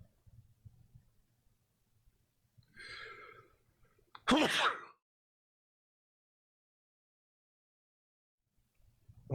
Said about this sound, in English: Quick sneeze there, sorry about that.